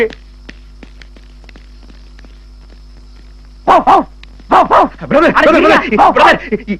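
After a few faint ticks, a person's voice breaks into a run of loud, close barks imitating a dog.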